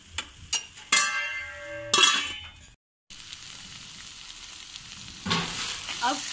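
Potatoes and beans fry in a pan, with bright clinks and metallic scrapes of stirring, a short silence, then a steady soft sizzle with a few more stirs.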